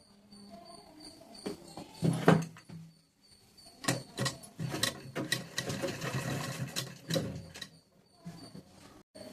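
Sewing machine stitching a patiala pant leg seam, running in several bursts of rapid mechanical clatter with short pauses between, close and fairly loud, no talk.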